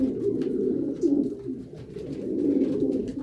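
Homing pigeons coo continuously in nest boxes in low, throaty rolling calls, several birds overlapping at close range with no talking.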